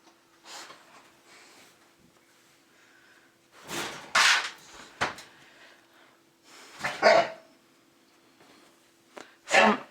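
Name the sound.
puppy barking while playing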